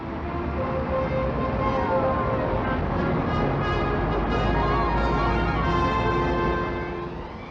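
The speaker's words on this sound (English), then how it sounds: "It's jam today and even more jam tomorrow as the traffic builds up" Dense old-time street traffic on Oxford Street, London, a continuous loud rumble of engines and horns with a rising siren-like whine near the end, no voices.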